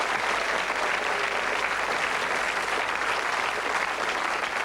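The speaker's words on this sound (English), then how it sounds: "Give him a round of applause." A game show studio audience claps in sustained, dense applause, steady and loud throughout with no voices over it, on a 1986 British school quiz programme.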